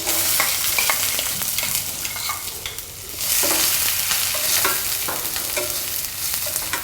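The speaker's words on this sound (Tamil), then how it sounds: "வெங்காயம் நல்லா பொரிஞ்சு வரணுமா?" Onions and green chillies fry in hot oil with a dense, continuous sizzle, punctuated by repeated scrapes and clinks of a utensil stirring the pan, with a brief dip in intensity midway.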